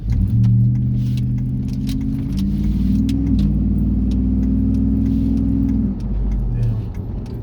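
Cars passing by outdoors, a loud low engine rumble that swells and holds, then eases off before another vehicle approaches, with faint clicking in the background and no talk.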